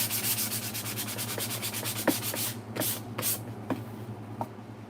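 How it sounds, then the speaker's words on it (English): Sandpaper is rubbed by hand over a surface in quick, rhythmic back-and-forth strokes, a close, dry scratching hiss with a few sharper scrapes and no talking. "Now, where is my sandpaper? There you are. Just a little sand."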